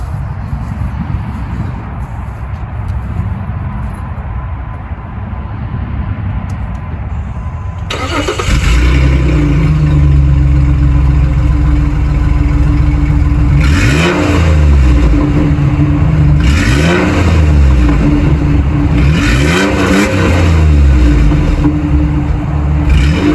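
Jeep exhaust: a quieter idle for the first few seconds, then the engine fires up into a loud, close roar with three rising-and-falling revs, and no talking.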